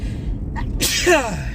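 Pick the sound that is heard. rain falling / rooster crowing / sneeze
sneeze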